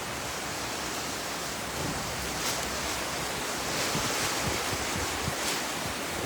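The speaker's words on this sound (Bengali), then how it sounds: "ঘূর্ণিঝড়ের মতো বৃষ্টি হচ্ছে" A cyclone-like downpour roars steadily, dense and close, with gusty swells and occasional heavier splashes, and no one speaks.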